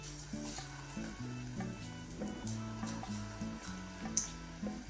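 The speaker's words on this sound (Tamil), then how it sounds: "இப்போ இந்த கொதிக்கிற எண்ணெய்க்கு போட்டுக்கொள்றேன்." Peanut pakoda frying in boiling oil, a steady crackling sizzle with irregular pops and bubbling, faint and close with no talking.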